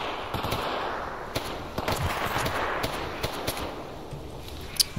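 Friendly gunfire in a video game, a loose string of sharp cracking shots spaced irregularly against a hissing background, moderately loud with no voices.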